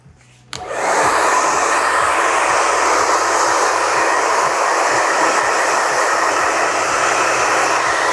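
A hair dryer blows through a freshly cut short, choppy, textured men's fade. It switches on after a brief quiet start, then roars loud, close and steady to the end.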